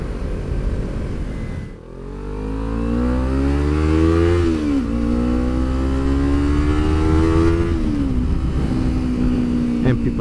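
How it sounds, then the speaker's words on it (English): A Kawasaki Ninja 300 ABS motorcycle ridden on the road, its engine revving up through rising pitch sweeps with gear shifts, loud and close against wind noise. "Oh, the joys of riding a motorcycle."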